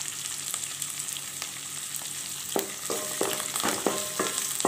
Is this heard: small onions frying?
yes